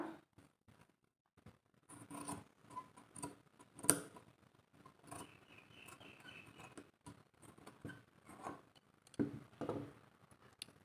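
Dull sewing scissors struggle to cut, giving quiet, sparse snips and dry clicks at irregular intervals in a near-silent room, close and faint, with no talking.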